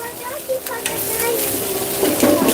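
Pieces of shashlik sizzle over an open fire in a steady, close crackle, with light scraping as they are turned and no talking.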